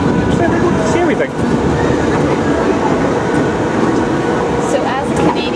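Amusement park tour train at La Ronde rolling steadily along its track, a loud continuous rumble with faint clicks and squeaks, close by the whole time.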